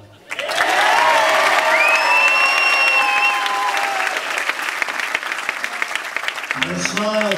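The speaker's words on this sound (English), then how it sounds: "And a round of applause for John" A rock festival audience claps loudly and continuously for several seconds at a 1999 show, with a few high whistle-like tones early on and a voice speaking near the end.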